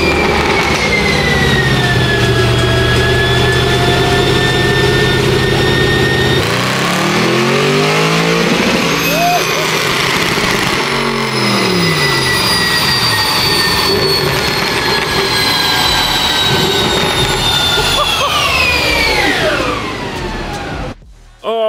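A loud Audi RS6 fitted with an RS7 engine runs hard on a dyno, the engine note climbing in repeated rising sweeps through the gears before it winds down and cuts off abruptly at the end.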